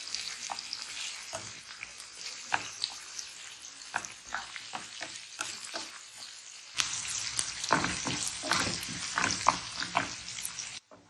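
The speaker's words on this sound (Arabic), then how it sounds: "وفي مقلاة وضعت قليل من الزيت، معلقة ديال الزبدة، بصلة كبيرة قطعتها جمنك وكنشحر الكل" A large chopped onion fries in oil with a spoonful of butter in a frying pan, a soft crackling sizzle broken by stirring clicks and scrapes, growing louder and denser partway through.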